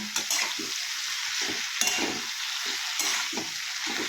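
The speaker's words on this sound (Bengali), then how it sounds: "অনিয়ন দিয়ে আমি এটা একটু নাড়াচাড়া করে দেবো আবারও" Sliced onion stirred and fried in a pan, a steady soft sizzle under repeated scraping strokes of a spoon at a regular rhythm, close and fairly quiet.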